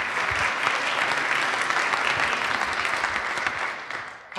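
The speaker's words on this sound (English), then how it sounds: "So we give a round of applause for Reagan," Steady round of applause from an audience at a 1 Million Cups startup pitch event in Kansas City, welcoming the speaker Reagan; dense, even clapping that fills the whole stretch and trails off slightly at the end.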